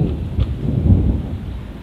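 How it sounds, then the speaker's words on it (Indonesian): Thunder rumbles from distant mountains during light rain at a grassy fishing spot, a low continuous roll under soft rain hiss with no talking. "Sudah terdengar suara petir."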